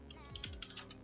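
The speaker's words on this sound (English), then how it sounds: "so I'm just going to type in racing profile number one." Fingers typing on a computer keyboard, a quick run of about a dozen light key clicks close by over roughly a second, fairly quiet.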